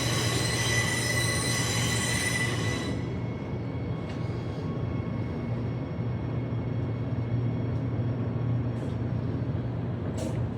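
A six-car Ellenbrook line passenger train at a Perth platform, running steadily and loudly throughout with a continuous rolling rumble, a high squeal that drops away after a few seconds, and brief hiss-like brake bursts near the end; nobody speaks.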